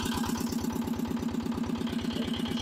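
A barn-find dumper's diesel engine idles steadily after an injector repair, with a close, even, rhythmic low chug and light mechanical clatter running unbroken throughout.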